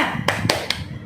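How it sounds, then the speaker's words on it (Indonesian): Three sharp, close hand claps from children doing the 'tepuk semangat' school clapping chant, spaced quickly in a short rhythmic burst. "sekarang kita tepuk semangat dulu ya"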